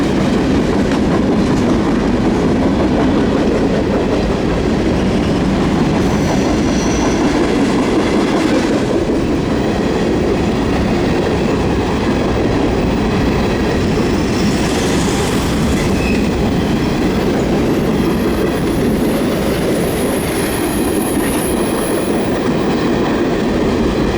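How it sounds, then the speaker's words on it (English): Daily westbound CN mixed freight (manifest) train passing at a Denfield Road bridge, a loud continuous rumble and roar of rolling cars with clattering wheels and faint high squeals, steady throughout. "Is a daily westbound mixed freight, aka manifest."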